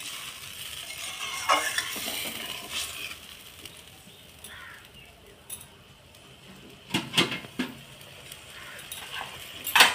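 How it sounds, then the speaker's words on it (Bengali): Fish curry gravy of bony fish simmering in a pan with water added, a soft bubbling sizzle with occasional louder clinks and stirring sounds, fairly faint overall. "এবারে আমি একটু ফুটতে দেবো।"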